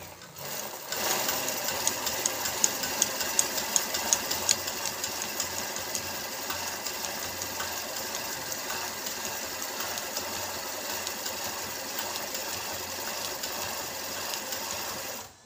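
Stitching on a new embroidery sewing machine gives a constant, close mechanical whir with a faint rapid ticking rhythm, running unbroken throughout with no voices.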